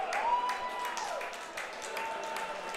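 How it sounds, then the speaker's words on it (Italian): A crowd at a Serie D football match between Treviso and Campodarsego gives moderate, distant applause, scattered claps blending into a steady wash with a faint whistle-like tone running through. "si prende gli applausi"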